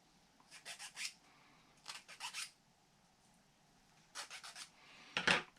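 Sandpaper rubbing a small wooden piece from a Ugears Antique Box mechanical model kit, short bursts of quick raspy back-and-forth strokes up close, separated by pauses.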